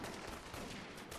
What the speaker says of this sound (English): Oh, that's gunshots.